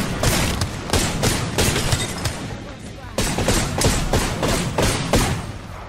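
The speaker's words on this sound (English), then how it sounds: "My airstrike on that." Airstrike explosions in the video game Apex Legends, a dense barrage of heavy booming blasts and crackling impacts that pound almost continuously, loud and close, with a brief lull midway before the bombardment resumes.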